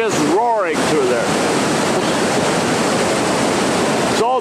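Waterfall at Foster Falls roaring with high water flow, a loud steady rushing wash that fills the whole clip, with a brief voice near the start and again at the end.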